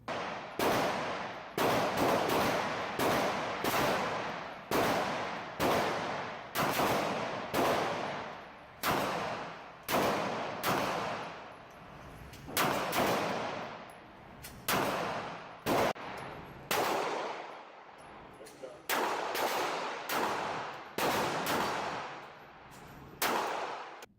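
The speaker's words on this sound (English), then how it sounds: "let's take this to the range. Let's see how this thing shoots." Ruger LCP II pistol firing at a shooting range: a long string of loud, sharp shots, some in quick pairs and others spaced apart, each followed by a brief ringing decay. No voices are heard.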